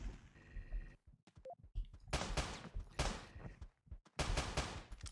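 Revolver shots in the video game Teleglitch, several loud sharp bursts in quick groups with short gaps between them.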